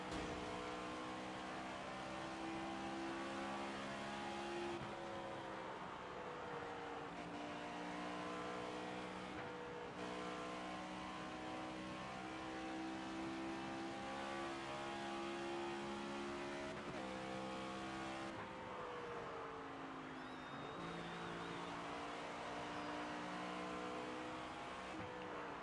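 A NASCAR 25 race car engine droning continuously around the short Dover oval, a loud sustained roar that rises and dips as it shifts through corners, lap after lap.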